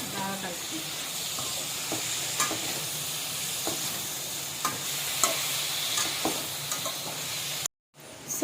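Soya chunk curry being stirred with yogurt in a hot pan, a steady sizzle and hiss throughout with light spoon scrapes and taps, close up, ending in a brief cut of silence.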